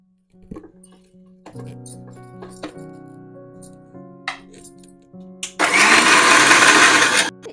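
An Indian mixer grinder roars to life near the end, grinding masala paste for fish curry in a loud continuous burst, after a series of clinks and taps from the jar and lid being set up.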